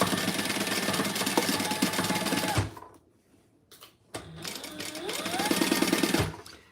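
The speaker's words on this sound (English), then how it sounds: "Fold it over and stitch just the sides." A sewing machine stitches the sides of a crossbody bag in two loud, rapid runs with a short quiet pause between them, the motor whirring steadily close by.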